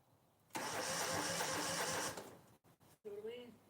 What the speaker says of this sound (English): This will make it spin, but not fire.